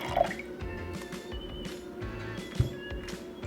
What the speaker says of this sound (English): So I'm going to go ahead and just pour my water in